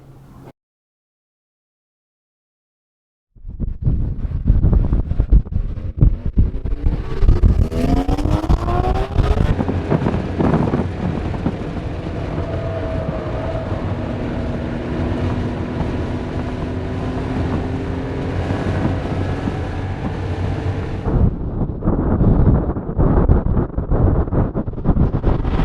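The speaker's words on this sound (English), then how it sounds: "So first car is going out, and it's the 911 Safari" A Porsche 911 Safari pulls out onto a race track after a brief silence, its engine note climbing through gears as it accelerates away, with steady wind and drive noise throughout and a sudden drop near the end.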